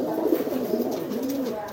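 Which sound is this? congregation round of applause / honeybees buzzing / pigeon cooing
pigeon cooing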